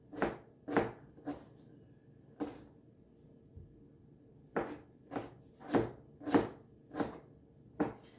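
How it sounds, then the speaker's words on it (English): A knife chops through a mix of peppers on a board in a home kitchen, landing in close, irregular sharp knocks, singly and in quick clusters with short pauses between them. No one speaks. "I'm gonna get to chopping."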